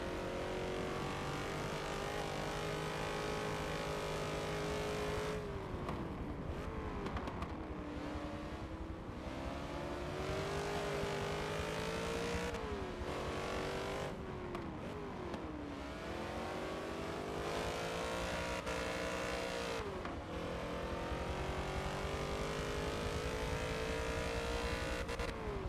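Race cars lapping Sebring International Raceway in a Forza racing game: a loud, continuous engine whine climbs and drops repeatedly as gears shift through the corners, with no voices.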